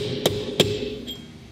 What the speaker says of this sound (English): I'm still gonna just try it with a mallet and see if I can get it in.